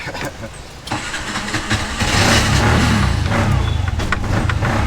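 A low-idling tuk-tuk engine cranks and catches after stalling, then rises to a loud, rough, rattling idle close by.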